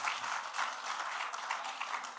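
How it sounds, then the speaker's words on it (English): Audience applause at a women's leadership gathering, a dense, steady patter of many hands clapping throughout, moderately distant and fairly soft, with no talk over it. "A big round of applause."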